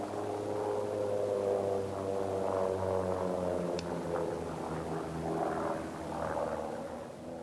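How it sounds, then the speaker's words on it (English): Small, light propeller planes fly at an aerobatic competition, their engines forming a steady, humming drone that wavers slightly in pitch at middle distance and then fades a little toward the end. "a competition of flying the old-fashioned way, with stick and throttle and small light planes"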